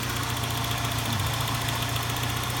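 A SAAB 900 convertible turbo engine idles steadily close by, a low, even rumble with a light mechanical ticking running through it and no talk.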